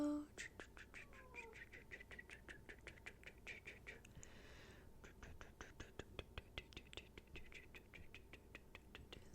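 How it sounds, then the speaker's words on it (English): Faint, distant meowing from a cat trying to get into a room, repeated soft calls behind a steady run of close crisp tapping and rustling, with hushed whispering nearby. "my cat's trying to get in"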